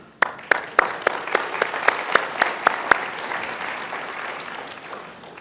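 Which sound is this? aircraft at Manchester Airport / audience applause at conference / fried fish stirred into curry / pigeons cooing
audience applause at conference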